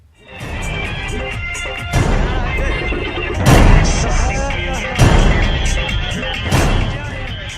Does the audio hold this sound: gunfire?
yes